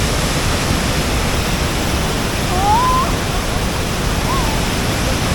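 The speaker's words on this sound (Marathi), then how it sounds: "समोर पाहत आहात आपला दुसरा पेश्वरचा धबधबा आणि धबधब्याचं पाणी पाहत आहे" Waterfall at Dhutpapeshwar in the Konkan after heavy monsoon rain, a steady broadband roar of falling water filling the whole clip, with a couple of faint whistled bird notes rising above it.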